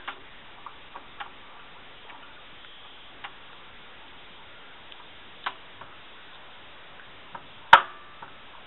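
A screwdriver drives a screw into a computer case, making sparse small ticks and clicks over quiet, with one sharper metallic click near the end.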